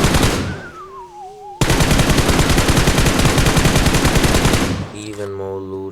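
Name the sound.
gunfire from PUBG Mobile video game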